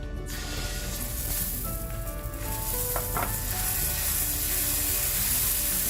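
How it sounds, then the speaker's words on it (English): Dosa batter sizzling on a hot pan during masala dosa preparation, a steady close crackling hiss throughout with a brief scraping clink near the middle and no talking. "now that our potato is done and the pan is hot, we're going to start making our crepes or dosa"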